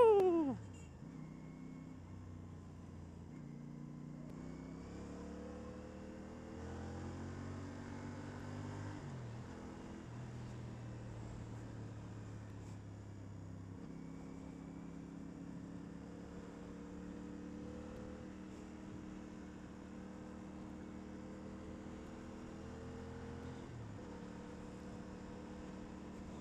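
A CF Moto 450 CLC motorcycle engine hums steadily while riding, its tone rising and falling with gear changes across a continuous, moderately loud drone, with a short exclamation near the start.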